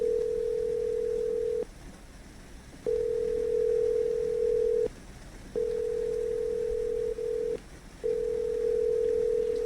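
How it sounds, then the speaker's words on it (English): A phone calling tone in a video game repeats as a steady electronic hum in long bursts with short gaps, loud and alone with no talk. "We're going to call the person. Calling."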